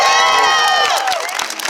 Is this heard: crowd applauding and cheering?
yes